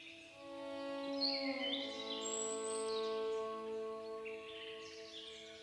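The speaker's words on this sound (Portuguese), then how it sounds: "a arara azul surge como um rasgo de cor no céu. Seu voo barulhento anuncia presença, alegria e vida." A hyacinth macaw calls in the wild Mato Grosso landscape, its harsh, raspy cries sounding fairly close and loud, repeating over several seconds amid other faint birdsong.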